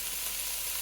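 Fajita vegetables sizzle steadily in a hot skillet, a constant close hiss with no break over the short moment and no voices.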